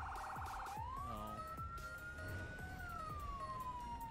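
Emergency siren in Firefighting Simulator video game: a continuous rising and falling wail that sweeps up, holds and slowly descends, loud and close over rumbling traffic and engine noise, with no talk.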